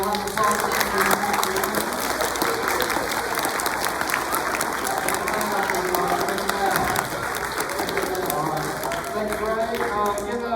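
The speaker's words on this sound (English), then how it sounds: "Guys, y'all give the show choir a round of applause." A school audience applauds a show choir at an elementary Veterans Day program, steady dense clapping filling the hall for the whole stretch with some crowd noise mixed in.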